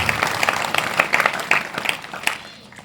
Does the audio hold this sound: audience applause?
yes